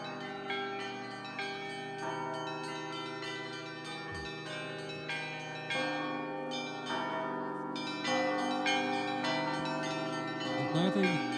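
Church bells peal at a monastery bell-ringing festival, several bells of different pitches struck in a steady, layered rhythm with sustained ringing tones, loud and continuous throughout.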